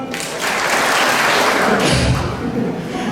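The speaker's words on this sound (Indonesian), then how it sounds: "Tepuk 4," An audience claps in unison, a dense, loud burst of hand claps filling the whole moment as part of a rhythmic clapping game at a church gathering.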